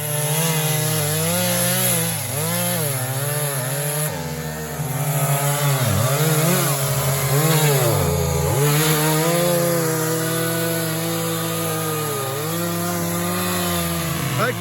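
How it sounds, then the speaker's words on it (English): A chainsaw cuts through wood near a crooked river trail crossing, its engine droning steadily and rising and falling in pitch as the blade bites, loud and close for the whole stretch. "Everybody wants to get their chainsaw out."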